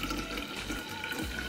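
Homemade almond milk pours into a small milk jug in a steady, continuous liquid trickle, close and fairly quiet, with no voices over it.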